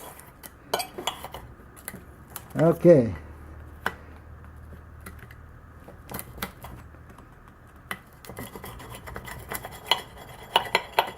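A plain-edge knife cuts against a hard surface, giving sparse, sharp clicks and scrapes close up, with a brief spoken word partway through.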